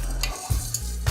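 Asafoetida, garam masala and vegetable masala crackle and sizzle in hot oil inside a pressure cooker over a medium flame, with a stirring spoon scraping through in short bursts, close up.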